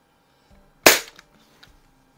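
A Crosman 2200 Magnum .22 pump air rifle fires a single sharp, close crack with a quick decay, followed by faint small clicks and handling noise.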